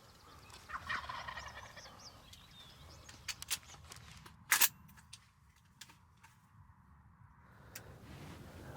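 Wild turkeys gobbling on an opening spring morning of turkey season in New York, faint distant gobbles rolling through open country amid birdsong, with a few sharp louder knocks nearby.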